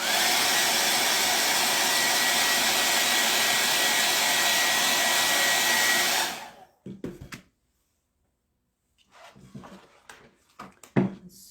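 A hair dryer blows steadily on freshly painted craft work, a loud broadband roar for about six seconds before it cuts off, followed by faint handling noises and light rustling.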